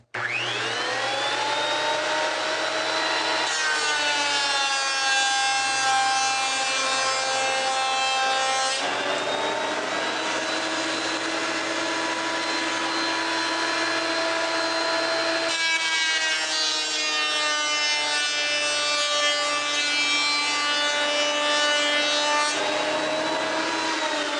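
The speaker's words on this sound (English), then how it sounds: "Those surface planers are nice." Surface planer feeding wood through its cutter head, a loud sustained whining roar with a tonal hum that rises and shifts as each board passes, continuous and close with no speech.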